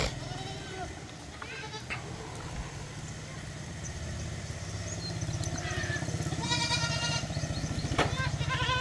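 Goats grazing on grass bleat in repeated calls, some near and some farther off, over a steady low motor drone, with a person talking now and then.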